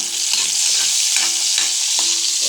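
Garlic sizzles in leftover oil from frying tilapia, a loud, dense hiss that holds steady throughout, broken by a few scraping stirs up close.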